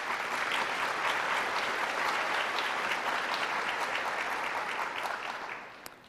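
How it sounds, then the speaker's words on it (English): Conference audience at an opening session applauding its sponsors, steady, moderately distant clapping from a large room that carries on for several seconds before tapering off near the end. "Let's give our sponsors a round of applause."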